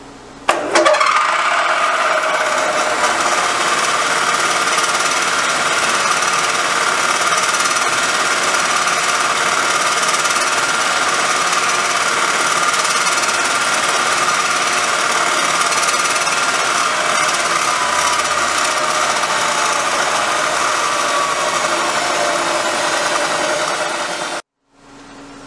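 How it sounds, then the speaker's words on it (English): A drill bores a hole into a piece of alloy for a 1959 BSA C15T restoration, a steady loud grinding whir running unbroken for about twenty-four seconds before cutting off abruptly. "That's the hole drilled and we can now run a tap down."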